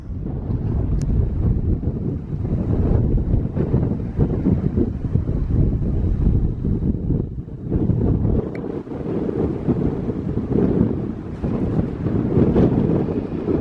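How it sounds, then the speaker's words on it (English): Strong wind gusts buffet the microphone on an open hillside near a barrow, a loud, continuous roaring rumble that surges and eases in waves, with no voices. "brace yourselves for the wind."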